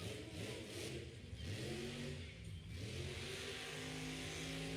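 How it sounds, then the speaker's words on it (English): A truck engine revs and roars steadily at a motorsports wheelie show, rising and falling in pitch, loud and close with no talking. "I do love the sound of the truck, though."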